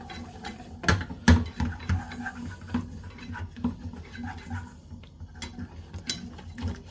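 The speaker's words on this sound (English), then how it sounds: "Stir it around with a whisk." A whisk stirs a roux in a pan, making irregular clinks and metallic scrapes with a few sharper knocks against the pan, heard close and alone.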